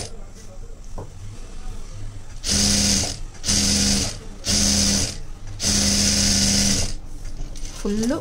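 A sewing machine stitching a ready-made boat neck blouse piece runs in four loud, close bursts of rapid mechanical whirring, separated by short pauses, with a few faint clicks in between.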